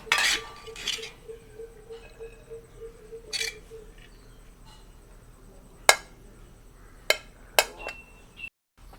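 Chinese-style vegetable fried rice being served onto a serving plate, with scattered clinks and taps of a utensil against the dish, a few sharp knocks standing out over a quiet kitchen background.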